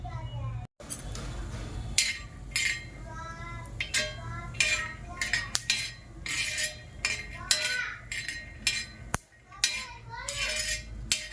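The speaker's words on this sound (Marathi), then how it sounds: "चांगले भाजायचे शेंगदाणे बारीक गॅसवर चांगलं भाजून घ्यायचे" Peanuts dry roasting in a pan over a low flame, with close, irregular scraping and clinking of a metal spoon stirring against the pan, steady throughout under a soft background hum.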